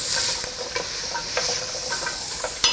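Vegetables soften in a pot for a creamy chicken and rice soup, giving a soft sizzle with several brief scraping stirs spread across a few seconds.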